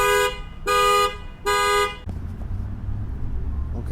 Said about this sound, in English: somebody who sounded his car alarm